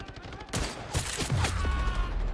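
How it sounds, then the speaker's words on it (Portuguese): Gunfire rings out in the free first-person shooter Battle Teams 2, with a few sharp shots cracking in quick succession and echoing over a steady background hum. "Olha, deu três tiros. Tuf, tuf, tuf."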